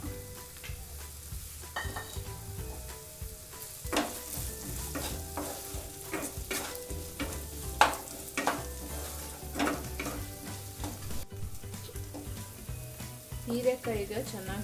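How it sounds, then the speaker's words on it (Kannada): Chopped ridge gourd frying and sizzling in a pan while being stirred, a steady crackle with repeated scraping strokes of a spoon against the pan, close and alone with no talk. "ಇವಾಗ ಹೀರೆಕಾಯಿನ ನೀವು ಸ್ವಲ್ಪ ಚೆನ್ನಾಗಿ ಫ್ರೈ ಮಾಡ್ಕೋಬೇಕು."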